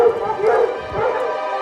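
Hunting dogs bark and yip in excited bursts while chasing a mountain lion through the Idaho backcountry, heard fairly close with people talking over the pack.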